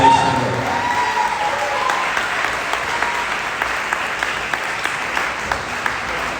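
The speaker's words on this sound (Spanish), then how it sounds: "al cual recibimos con un aplauso del Señor" Congregation clapping to welcome a pastor at an evening church service, dense sustained applause at moderate loudness with a few sharper claps standing out, continuing throughout without a break.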